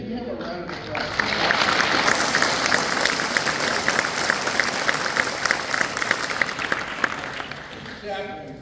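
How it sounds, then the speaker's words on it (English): Sustained applause from a large graduation audience at a Fort Sam Houston combat medic ceremony, loud and dense clapping building after a second and holding steady for several seconds before tapering off. "Let's give him a round of applause."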